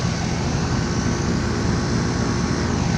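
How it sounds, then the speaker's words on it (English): A fan motor runs in a 2014 Carrier Comfort 13 heat pump operating outdoors in cool mode, giving a dense, steady whooshing roar with a low hum, loud and unchanging throughout. "Gentech fan motor."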